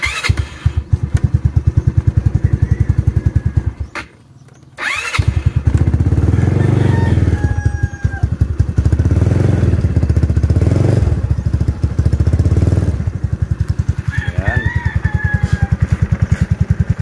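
Motorcycle engine running steadily after being started, close and loud with a clean, even idle that dips briefly near the start, with faint occasional ticking and clatter, no talk.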